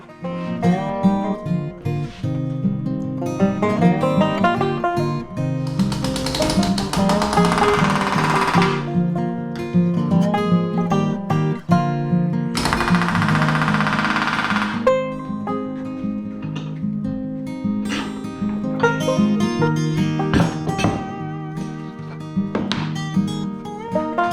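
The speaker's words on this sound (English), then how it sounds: "Hammer it home with the flush set and the rivet gun here." Loud, fast rattling bursts of a rivet gun with a flush set hammering rivets into a Vans RV-7A airplane elevator, repeated several times with short pauses, close by and harsh.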